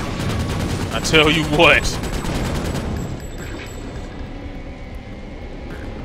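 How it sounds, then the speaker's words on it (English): Fusion rifle gunfire in the video game Ratchet: Deadlocked, a rapid electronic burst with warbling sweeps in the first seconds that fades into quieter game ambience, while someone talks over it. "That fusion rifle, though."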